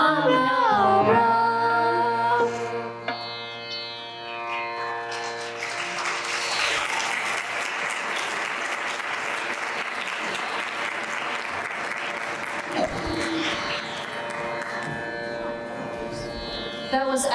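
At a Diwali show, an audience claps for children who have just finished chanting, steady broad applause that swells and carries on for many seconds, starting under the fading last sung and instrumental tones.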